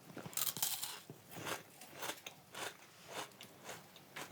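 Someone bites into a crispy waffle in the Corrèze, a series of sharp close crunches at a steady chewing rhythm, each one crisp and brief, with no talk over them.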